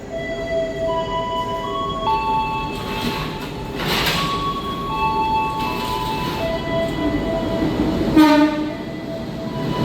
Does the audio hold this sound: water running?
no